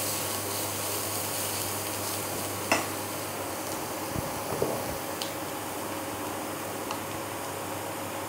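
Grated carrots and other vegetables are stirred in a pan, with a steady soft hiss of frying under occasional light scrapes and clinks of a spoon against the metal.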